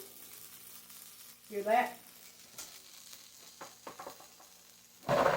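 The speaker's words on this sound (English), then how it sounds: "These onion rings are sizzling away." Steady crackling sizzle of frozen onion rings frying in oil, with a brief spoken question and a few louder bursts of bubbling near the end.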